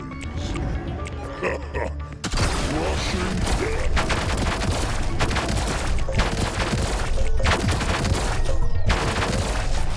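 Gunfire and explosive impacts hit a resource base in the real-time strategy game Battle Aces, sustained dense bursts of shots and booms running nearly continuously after a quieter opening, loud and close.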